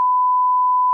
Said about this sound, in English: We're gonna have to beep that or something